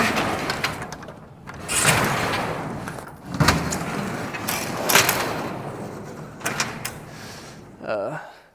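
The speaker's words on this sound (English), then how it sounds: "let's open this garage door real quick" A garage door rattles and rumbles as it rolls open, with mechanical clunks and a final creak, while a person talks over it.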